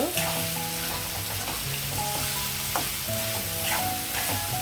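Beans and potatoes frying for a curry make a loud, continuous sizzle and hiss, with occasional stirring scrapes and faint tonal clatter from the pan under it, and no talking.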